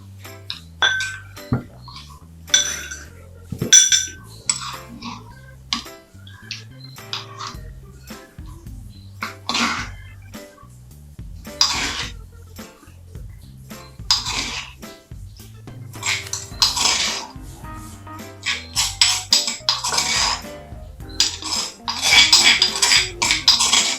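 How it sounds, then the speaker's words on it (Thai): Thai nam prik kapi chili paste being spooned into a bowl: a run of irregular clinks and scrapes of spoon against ceramic and glass, close and fairly loud, with no talking. "เดี๋ยวตักใส่ถ้วยเลยค่ะ"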